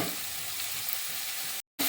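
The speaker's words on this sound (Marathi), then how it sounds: "फटाफट भाजून घेऊया." Onions frying hard in a pan on a gas stove over a raised flame, a steady dense sizzle throughout, close and loud, cut by a brief silent gap near the end before resuming.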